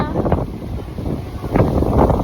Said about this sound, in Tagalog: Hangin na kaayo.